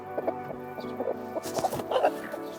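A broody hen just lifted off her nest box gives a run of agitated, irregular clucks and low grumbling calls, fairly close and alone, with a few louder, sharper squawks toward the end.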